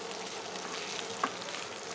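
Mashed potatoes frying in a pan with roasted spice masala, a soft, even sizzling hiss that stays low throughout, with one brief click partway through.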